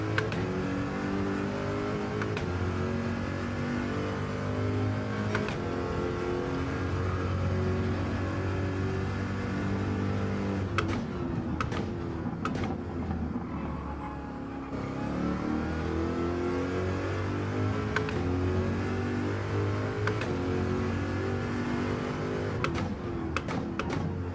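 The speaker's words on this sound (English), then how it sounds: "I love the sound of this car though" A Gr.3 Corvette race car engine in Gran Turismo 7 at Daytona Road Course roars continuously, revving up and shifting through gears again and again at high, sustained volume.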